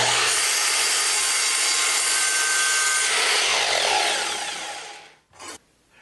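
Wooden pieces for a pocket-hole table leg are cut to length with a saw, making a steady, loud, continuous rasping stroke for about five seconds that fades out, followed by a brief short burst.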